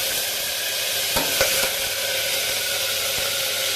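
Mustard seeds, cumin and asafoetida sizzle loudly in hot oil, a dense steady hiss close by with a few faint pops and clicks in the middle, no voices.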